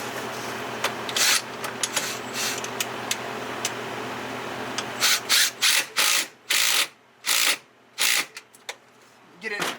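Allen wrench tightening the factory 10mm nut on an NRP gated shifter in a Can-Am X3: a steady low hum first, then a run of short, close metallic clicks and scrapes in rhythmic bursts toward the end.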